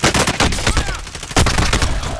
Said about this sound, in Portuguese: da onde tá vindo esse tiro?